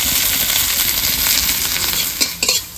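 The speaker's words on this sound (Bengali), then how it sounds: "দেখুন নিম পাতাটা কি সুন্দর করে আমি ভেজে নিয়েছি" Neem leaves sizzle steadily in a pan with a little salt, a dense continuous frying hiss heard close up, with a couple of brief metallic clinks of a utensil near the end.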